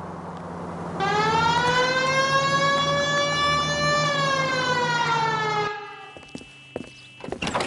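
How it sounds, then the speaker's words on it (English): A loud police car siren in the video game L.A. Noire wails in one long rising tone, holds for several seconds, then cuts off abruptly, leaving a few faint knocks. "Hit the siren."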